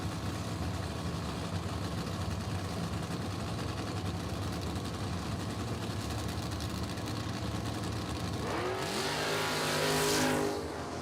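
Ford Mustang drag race car at a footbrake bracket race launching down the strip, a loud engine roar rising sharply near the end over steady crowd and track noise.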